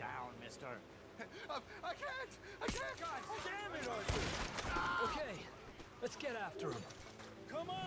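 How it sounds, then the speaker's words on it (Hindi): Bursts of gunfire in Red Dead Redemption 2, a few sharp shots and a clustered volley in the middle, heard under lively talk and laughter from players. "तूने तो गोली चलवा दी"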